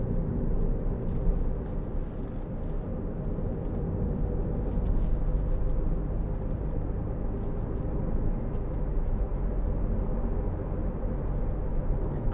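A 2011 Audi TT 2.0 TTS TFSI Sport quattro two-door accelerates hard on a test drive, its engine roaring in a steady, loud, low drone heard from inside the cabin for the whole stretch, with no talking.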